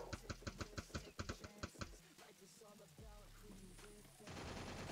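Rapid gunfire from a video game, with a fast run of evenly spaced sharp shots that gives way to engine-like drone and rumble, loud and mixed, with no clear talk.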